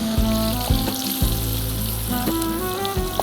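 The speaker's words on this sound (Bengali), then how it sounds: "এখন এটা আমি জাস্ট 2 মিনিটের মতো একটু ভেজে নিই" Salted green beans fry in olive oil in a pan with a steady, close sizzle throughout, broken by a few soft clinks and stirring knocks.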